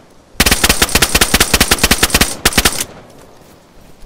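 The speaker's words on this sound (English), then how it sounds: "I fired the gun too much." Rapid automatic gunfire from a gun in the video game DayZ: a long close, loud burst of about twenty evenly spaced shots, a brief pause, then a short final burst before it stops abruptly.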